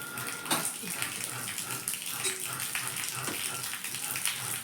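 Water gushes steadily into a filling tank fed by a pump motor, a continuous broadband splashing rush that holds level and close throughout without any pause.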